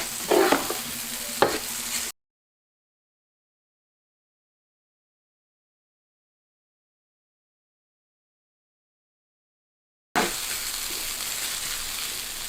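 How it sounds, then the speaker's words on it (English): Grated potato hash brown frying in a pan is stirred briskly, giving a steady sizzle with scraping strokes. The sound runs for two seconds, drops out completely for eight seconds, then returns at the same level. "Make sure to mix it and cook it, stirring continuously."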